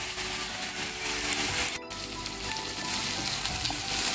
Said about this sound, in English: Friends, I am adding a little ginger garlic paste.